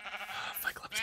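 Sheep bleating in Minecraft, a short wavering nasal bleat of about a second, close and clear.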